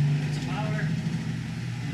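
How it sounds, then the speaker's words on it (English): A rotary spark gap rotor spins up behind a Tesla coil setup, giving a steady low motor hum with a faint rising whine, under brief speech. "So first off, let's power it up. Let's get that rotor spinning."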